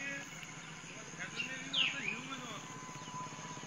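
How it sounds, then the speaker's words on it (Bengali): Soft chirps and calls of birds at dusk in quiet rural Bengal countryside, faint and scattered over a low steady hum, with someone talking throughout. "পাখির শব্দ কিন্তু পাওয়া যাচ্ছে, খুব সুন্দর করে কিন্তু পাখি ডাকছে"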